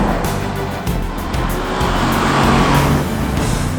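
A new Audi RS6 accelerates hard, its engine roaring loudly and rising through gear changes, with a brief tire squeal amid the strong, continuous drive.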